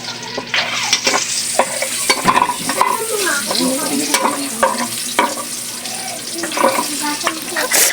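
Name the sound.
tuna steak frying in a pan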